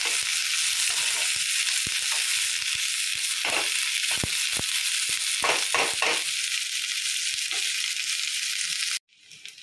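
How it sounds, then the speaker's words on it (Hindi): Chopped onions frying in a pan for jackfruit curry, a steady close hiss of sizzling oil with occasional stirring scrapes, cutting off abruptly near the end. "और इसे गोल्डन ब्राउन होने तक फ्राई करेंगे।"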